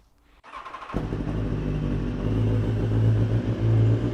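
A BMW HP4 Race motorcycle engine cranks briefly and fires up, then settles into a loud, steady, rumbling idle that swells slightly toward the end.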